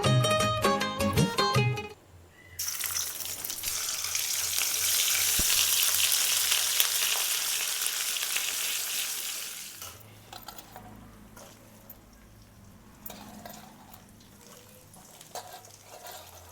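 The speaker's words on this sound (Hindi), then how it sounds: "पनीर को हल्का सा फ्राई कर लेते हैं और हमारे यहाँ रिफाइंड है नहीं तो सरसों के तेल में ही हम फ्राई करेंगे" Paneer frying in mustard oil in a pan, a loud steady sizzle that swells and then fades, preceded by sharp clinks of utensils and followed by quieter stirring and scraping.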